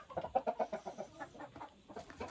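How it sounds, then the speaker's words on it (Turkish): Chickens, including Australorps, cluck in quick, overlapping bursts close by, with a rooster among them, busy farmyard chatter and no people talking. "Horoz da burada."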